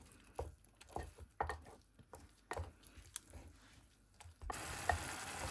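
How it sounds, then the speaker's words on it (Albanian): A spoon scrapes and stirs a tomato sauce with red pepper, black pepper and oregano in a pan for cheese fërgesë, making quiet repeated scraping strokes over a soft simmering sizzle. "Vazhdojmë i përziejmë edhe për pak, sa të marrin val."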